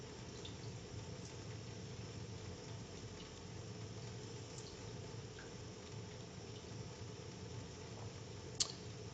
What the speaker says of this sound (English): I'm watching the water flowing out of test cock number 2